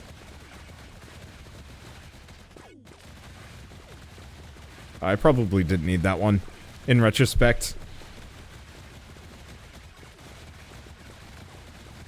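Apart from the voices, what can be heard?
gunfire sound effects from video game Stelloop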